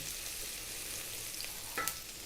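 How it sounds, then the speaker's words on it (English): Garlic and ginger sizzling in hot oil in a pan, a steady bright crackling hiss with a brief stir near the end, no talking. "In goes the garlic and the ginger, about equal amounts, about a tablespoon each. Just a few seconds in the hot oil."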